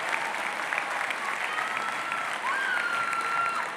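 Sustained audience applause fills a hall at an MBA commencement ceremony, a steady dense clapping from a large crowd heard at moderate distance, continuing evenly for several seconds.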